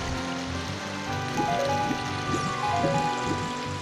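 Flowing river water at Zora's River in the video game Ocarina of Time, a steady rushing wash with game music tones layered over it, continuous and moderately loud, without speech.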